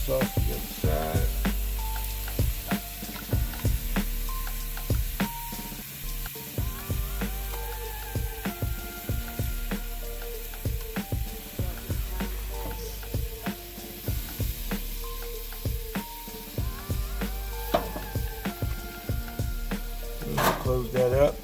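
Peachy BBQ ribs cooking on a covered grill, giving a steady crackling sizzle with frequent sharp pops and ticks throughout, close up and with no talk.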